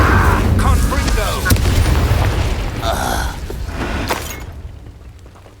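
Fire and blast spells, Incendio and Confringo, cast during combat in the video game Hogwarts Legacy, giving loud continuous booming and crackling bursts with dense layered effects that fade toward the end.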